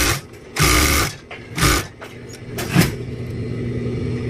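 A Siruba piping flatlock sewing machine, with broken stitches and lost power, runs in short whirring bursts of stitching, close and loud, separated by brief pauses and a lower motor hum.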